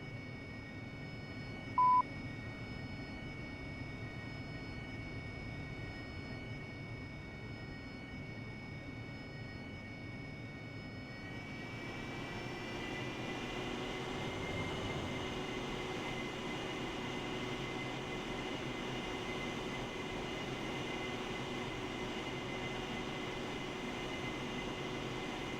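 AV-8B Harrier jet engine in the DCS flight simulator, a steady cockpit whine that swells partway through as the turbine spools up, then holds at a louder, brighter drone with thin tonal lines.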